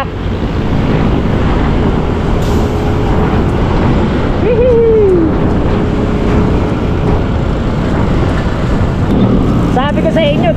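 Trucks roar past on a road on the way to Lipa, a steady broadband rumble buffeted by wind noise, with a brief higher whine partway through and a horse-drawn or other rattle near the end.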